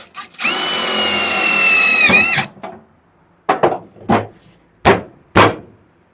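Pneumatic air hammer working on the bodywork of a 1969 Camaro: one long, loud, continuous rattling burst of nearly two seconds, then a series of short, sharp hammering bursts with brief gaps between them.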